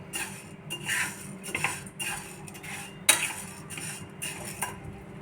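Dry moong dal lentils poured into a pot in a home kitchen, making a series of close, rattling, clattering bursts with short pauses between them and no talking.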